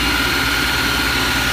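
A Steelmaster 150mm x 2000mm heavy duty industrial belt linisher runs with a loud, steady motor drone and whirring belt hum, constant and close throughout.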